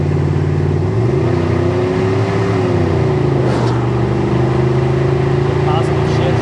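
A 1991 Chevrolet K1500 pickup with a 5.7 V8 and 700 automatic transmission pulls loudly from inside the cab, engine note rising and then dropping as the gearbox shifts, a steady drone continuing afterward.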